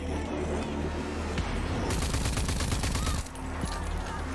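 Enemy gunfire in the shooter game Rage 2, dense rapid bursts that rattle continuously for a couple of seconds and then cut off abruptly.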